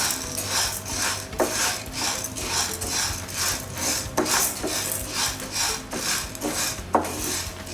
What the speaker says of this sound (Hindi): जब तक हमें सेकना है इसे और कांस्टेंट हिलाते रहना है